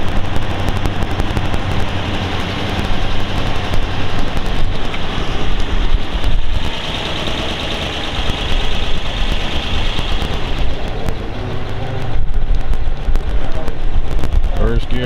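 A 1935 Auburn 851 rumble-seat convertible drives along in first gear, its engine a loud, continuous roar blended with heavy wind buffeting close to the microphone.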